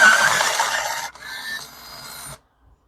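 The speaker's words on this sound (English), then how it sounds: "I am going to sharpen this." A tool is sharpened in a short, close grinding rasp that is loudest for about a second, softens, and then stops abruptly into silence.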